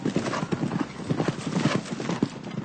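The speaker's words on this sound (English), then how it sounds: "all the 3-year-olds, the horses that were bought last year at the sales, this is their second day jumping today" Hooves of young three-year-old horses schooling over hurdles thud in a rapid, steady clip-clop rhythm, close and continuous, with a faint whinny-like sound mixed in.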